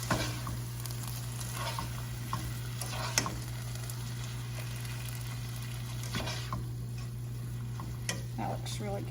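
Diced tomatoes and green chilies being stirred into a hot pan, a steady sizzle under repeated scraping and clicking spoon strokes, fairly close, with a faint hum running beneath.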